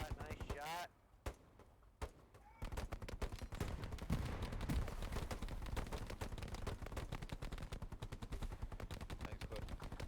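Bursts of automatic gunfire and single shots in a military shooter game, rapid cracking volleys close and loud through most of the stretch, with brief lulls and voices on radio chatter underneath.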